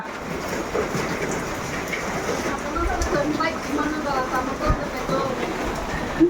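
Steady rain pattering on surfaces all around, a dense continuous hiss with a few low rumbles, close and moderately loud throughout.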